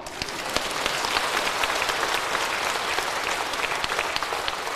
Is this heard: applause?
yes